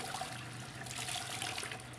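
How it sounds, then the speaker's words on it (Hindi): Cloth being washed by hand in fresh water gives a quiet, continuous splash and trickle of running water that stays faint and unbroken throughout. "जब हमने इनको 3 मरतबा नए पानी के साथ हमने इस कपड़े को धो दिया है"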